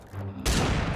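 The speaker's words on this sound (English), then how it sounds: "There's another cannon somewhere." A cannon fires in a medieval-themed video game, a single sudden loud blast that cuts in abruptly after a moment of quieter ambience and stays full and noisy.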